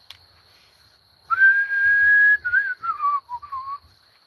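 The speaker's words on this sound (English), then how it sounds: "My whistling ability has went to shit." A person whistles a short tune alone. Silence comes first, then a long held note, followed by a few shorter, falling phrases that are clear and close.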